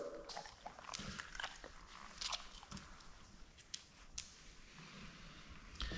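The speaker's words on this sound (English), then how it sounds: "Can you keep the noise down please, Charlie dog?" A dog chews noisily indoors in a house under construction, a steady scatter of faint wet crunches and gnawing clicks that continues for several seconds at low level, with no talk over it.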